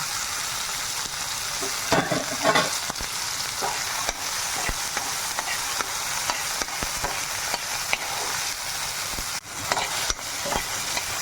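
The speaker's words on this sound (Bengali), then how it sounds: "এর মধ্যে একটু আদা দিয়ে দিলাম। একটু ভেজে নেব।" Ginger fries in hot oil in a kadai while an aloo capsicum sabji is being cooked, giving a steady, close sizzle broken by a few louder bursts of crackling and stirring.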